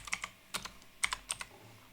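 Bursts of clicky keystrokes on a computer keyboard, typing a short command at a Windows command prompt, with an uneven rhythm and several quick clusters, close and clear with no talking.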